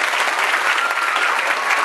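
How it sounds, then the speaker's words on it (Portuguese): An audience applauding the sound and light crew, a dense, loud, continuous clapping from many hands throughout. "Uma salva de palmas para eles,"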